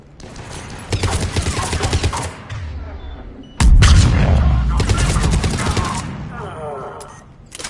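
Video game gunfire breaks out in dense, rapid volleys, first in bursts and then in a louder sustained barrage with heavy thumps, with a voice faintly audible among the shots.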